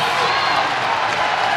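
A crowd roars and cheers at the 2025 Arnold Strongman Classic as Nick Guardiola fights to get a lift to his shoulder: a dense, steady wall of loud crowd noise that holds for the whole moment.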